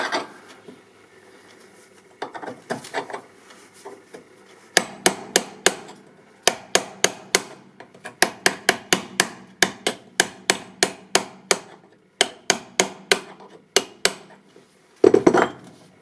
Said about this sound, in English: to chisel it off like that and go back over